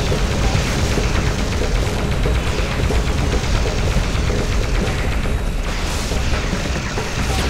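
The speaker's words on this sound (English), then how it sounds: "They just don't know about my pulse cannon!" Pulse cannon shots in the video game Gun Metal fire in rapid bursts over a dense, constant backdrop of game noise and engine roar, with a sharper swell of blasts near the end.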